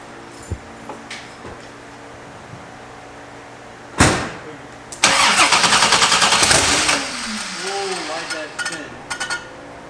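A C3 Corvette cranks with a loud rhythmic chug, then fires and runs rough before settling to an idle, up close, with people talking over it.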